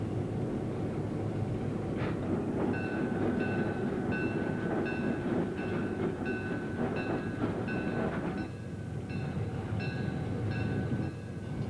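An Austin and Northwestern Railroad freight train rolls past hauling cars, a loud continuous rumble with repeated wheel clicks and squealing tones across the whole stretch.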